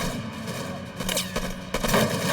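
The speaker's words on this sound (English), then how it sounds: "The SWAT members open fire." A burst of gunfire as a SWAT team opens fire on gunmen, several sharp reports in quick succession over a noisy background, moderately loud over about two seconds.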